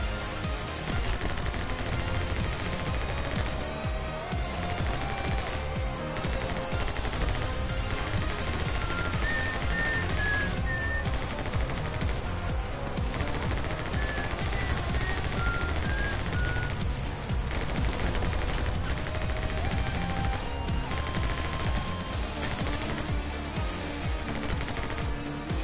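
Enemy gunfire rattles nonstop in the game My Friend Pedro, rapid machine-gun bursts and single shots layered over a driving music track for the whole stretch.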